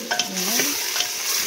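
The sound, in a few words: stirring sautéed chayote in a frying pan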